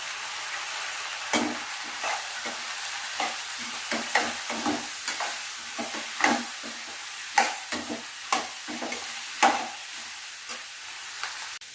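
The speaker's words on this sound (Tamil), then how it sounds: "இப்போது நல்லா மிக்ஸ் ஆயாச்சு பாருங்கள் ஒரு வதக்கு வதக்கியாச்சு" Cauliflower with sambar powder being sautéed in a pan: a steady frying hiss broken by a regular run of scraping stirs and spoon knocks, close and moderately loud, no voices.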